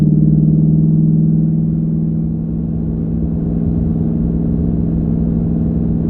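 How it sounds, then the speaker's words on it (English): Low, steady engine rumble of a 2019 Ford Mustang GT V8 with a 10R80 automatic cruising at constant speed, a deep droning exhaust note that eases slightly after the first couple of seconds. "You can hear by the exhaust, it's staying in the right gear."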